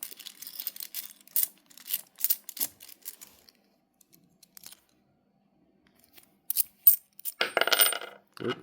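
50p coins tumble out of a bag in bursts of bright metallic clinks and jingles, pausing in near silence before a final louder cascade of coins spilling together.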